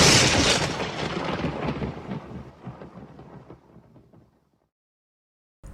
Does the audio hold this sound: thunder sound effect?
yes